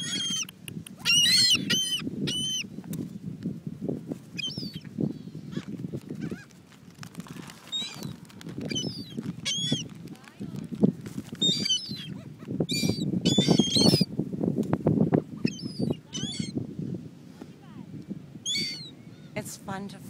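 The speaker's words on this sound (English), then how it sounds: "It's fun to fly with the seagulls." Seagulls calling at the beach, with repeated sharp cries scattered overhead above a continuous rumble of wind or movement, loud and close throughout the scene.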